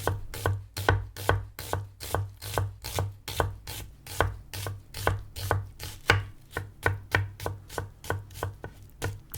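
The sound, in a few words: knife chopping onions with the grain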